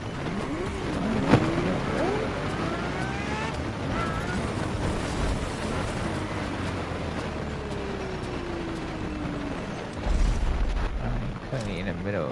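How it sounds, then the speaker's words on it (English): A Ferrari GTO races in The Crew Motorfest, its engine note climbing and falling through gear shifts over a constant roar, with a heavy burst near the end and voices talking over it. "The car you're about to drive in this opening event is none other than the first Ferrari in the supercar bloodline, the Ferrari GTO"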